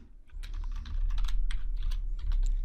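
Rapid typing on a computer keyboard while code is being entered, a flurry of close, crisp key clicks at an uneven pace, alone without talking.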